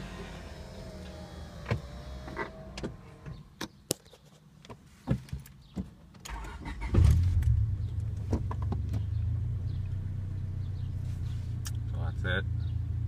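A car with an aftermarket intake manifold and throttle body idles with its windows down, a low steady rumble that swells and holds after a few clicks and knocks, with talk over parts of it.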